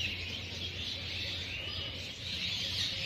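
Caged birds in a zoo aviary at Sarnath near Varanasi: a steady, dense wash of high chirping and twittering from many birds, continuous and fairly loud over a low background hum, with no talking.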